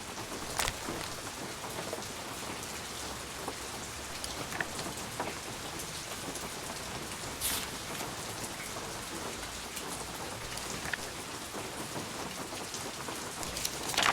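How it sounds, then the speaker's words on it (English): Rain falls steadily in the Nancy Drew: Legend of the Crystal Skull video game, a dense, even patter on surfaces with scattered louder drops, heard alone with no voices. "Why does it sound like it's raining inside?"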